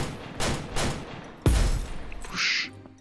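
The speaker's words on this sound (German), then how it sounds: "Oh, der schießt auf mich." Enemy gunfire in the VR shooter Crystal Raiders: a few sharp shots around the first second, then a heavy louder blast and a short bright burst, mixed with game noise and no talk.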